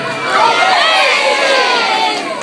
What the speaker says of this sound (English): they rose to their feet and screamed, "Amazing!"